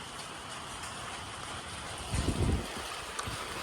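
Continuous rain hiss over fields in hill country fills the scene, steady and broad, with a brief low thunder rumble swelling midway before settling back.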